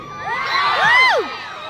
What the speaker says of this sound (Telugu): లవ్ ఫీలింగ్ అని అరుస్తున్నారు